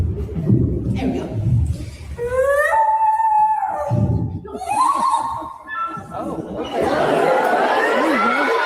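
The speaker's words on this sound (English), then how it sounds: "The first one is the creepy sound of the common loon." A common loon gives its wavering, eerie wailing call in a few rising and falling notes, with people chuckling and chattering around it.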